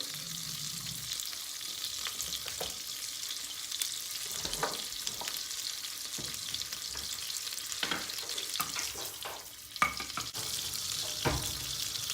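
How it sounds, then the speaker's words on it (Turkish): Butter melts and sizzles in a hot pan for a cauliflower dish, giving a steady, bright frying hiss with scattered pops and crackles up close throughout, and no one speaking. "Yağımız eridi. Hemen altını kısıyoruz."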